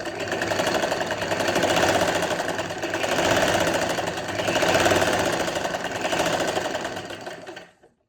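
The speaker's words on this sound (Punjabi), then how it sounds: "ਹੁਣ ਆਪਾਂ ਇਸ ਤਰ੍ਹਾਂ ਜੀ ਸਿਲਾਈ ਲਗਾ ਲੈਣੀ" A sewing machine stitches a finishing strip onto a dupatta, running in a steady fast whirring rhythm with slight surges, then stopping abruptly.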